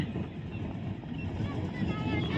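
A tractor runs on a sports ground being prepared for a Khel Mahakumbh sports event. It gives a steady, close, low engine rumble mixed with wind buffeting, and voices are faintly present.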